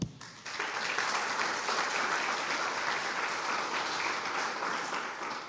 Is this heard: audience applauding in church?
yes